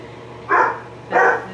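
Two loud dog barks, close by, spaced about half a second apart.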